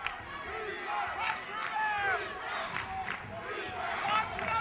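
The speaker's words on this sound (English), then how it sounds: "The crowd really into it here." A crowd at a Broncs vs. La Salle basketball game roars and cheers steadily, with a continuous din swelling in places while a commentator talks over it.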